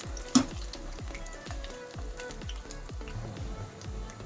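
Cauliflower pakoda frying in hot oil until crunchy gives a soft, steady sizzle with a brief sharp tap near the start and regular low thumps throughout, with no talking.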